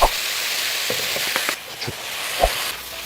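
Julienned potatoes with onion, carrot and chili stir-frying in a hot pan, a steady loud sizzle with a few scraping stirs and clinks throughout, no talking.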